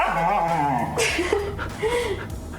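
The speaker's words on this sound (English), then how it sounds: "Huskies are very, very noisy animals" A husky whimpers and yips close by in short, rising whines and little vocal squeaks, a few distinct cries over a couple of seconds.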